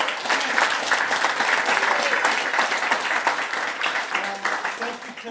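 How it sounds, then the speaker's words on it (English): People at a home meeting give a hearty round of applause, thick close clapping from a small crowd that stays strong and then thins slightly toward the end. "Let's give them a big round of applause."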